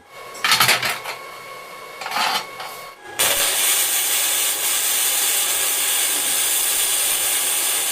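Gasless MIG welding with an ESAB 200i machine on a thick 5.5 mm steel plate: a couple of metallic clanks, then a loud, steady crackling arc hiss that runs unbroken to the end.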